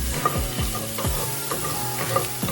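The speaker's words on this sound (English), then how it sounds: "we're just going to saute the mushrooms like so" Mushrooms sautéing in a pan alongside crispy chicken bits for chicken Marsala, a close, steady sizzle with a rhythmic stirring scrape repeating about every half second.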